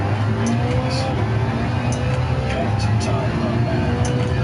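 A race car engine in Gran Turismo 7 drones at high revs before a gear shift, a steady, moderately loud buzzing tone with faint clicks on top.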